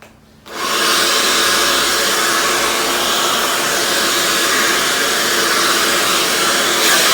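Hair dryer blowing hair straight, a loud steady roar switching on after half a second and running continuously close to the microphone with no talking.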